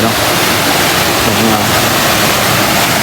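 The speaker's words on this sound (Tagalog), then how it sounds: "So ayan, nakikita nyo yung waterfalls na yan." A waterfall near Valencia, Negros Oriental, roars loudly and steadily as a dense broadband rush of falling water, close by and unbroken for the whole stretch.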